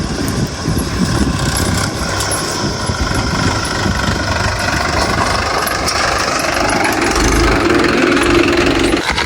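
A tractor engine runs close by at a steady, loud, rumbling drone with a rough knocking texture, continuing without a break and with no talk.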